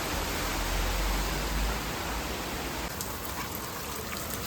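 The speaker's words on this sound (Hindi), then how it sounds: "लेकिन आज सुबह से बारिश आ रही है।" Morning rain falls steadily, a continuous, even hiss filling the whole stretch with no pauses and no voices.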